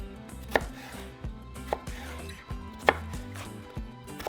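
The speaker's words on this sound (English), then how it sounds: "Now I'm going to grab my half of a cucumber and cut it into small strips." A knife chops cucumber into small strips on a cutting board, with a few sharp, close taps spaced irregularly over a quiet background.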